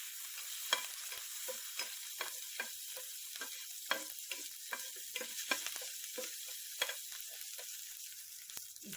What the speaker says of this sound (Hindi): हम इसमें 1 चम्मच अदरक लहसुन की पेस्ट डालेंगे। अच्छे से हम सौते कर लेंगे।